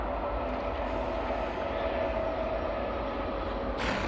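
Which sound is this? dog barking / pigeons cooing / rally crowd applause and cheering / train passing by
train passing by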